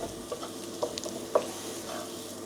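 Kung pao pork stirs and fries in a pan, a steady close sizzle with a few light scrapes and taps from the utensil.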